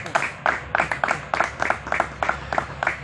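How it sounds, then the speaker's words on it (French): A student audience at a panel with a political figure claps in a short, rhythmic burst, evenly spaced pulses close by, with no talking over it. "applaudissez pour vous-même"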